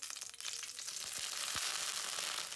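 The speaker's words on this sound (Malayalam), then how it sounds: "ഇഞ്ചി വറുത്ത് കോരാൻ കുറച്ച് വെളിച്ചെണ്ണ ഒഴിച്ചു." Ginger pieces sizzle steadily in hot coconut oil in a home kitchen pan, a bright continuous crackle with no talking.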